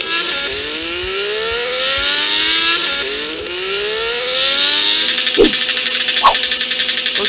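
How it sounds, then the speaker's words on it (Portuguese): A Tiger motorcycle engine revving up close, several rising and falling sweeps of the motor, then a rough, pulsing idle with a couple of sharp throttle blips near the end, loud and with no talking. "E, mano, dá uma acelerada nela aqui."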